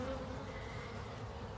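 Honey bees buzz steadily on a hive frame during a beekeeping inspection, a continuous close droning hum with no talk.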